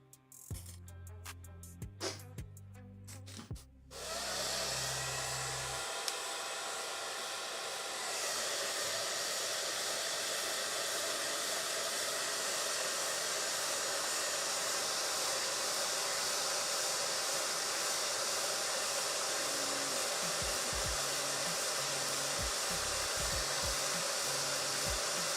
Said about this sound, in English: I might just get the hairdryer onto this lens